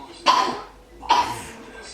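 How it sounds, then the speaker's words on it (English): A woman coughs twice in the background, two short, harsh bursts about a second apart, fairly close and clear. "can probably hear her coughing in the background."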